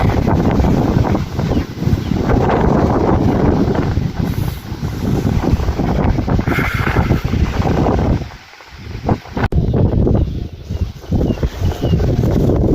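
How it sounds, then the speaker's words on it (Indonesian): Strong wind gusts roar across the savanna slopes of Mount Merbabu, buffeting the microphone in loud, rough bursts that ease briefly before picking up again. "Ini di bawah sempat Sabana 1, anginnya kencang masih."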